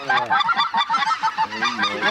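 Geese honk repeatedly in a dense overlapping flock chorus during a goose hunt, loud and close with continuous cackling calls throughout.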